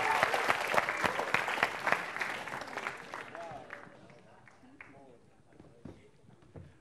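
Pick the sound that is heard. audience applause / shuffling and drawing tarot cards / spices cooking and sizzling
audience applause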